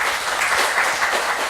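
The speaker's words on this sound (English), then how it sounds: "if you want to clap, you can also clap" Lecture-hall audience claps briefly at the end of a physics talk, a short even burst of applause from a modest crowd with no voices over it.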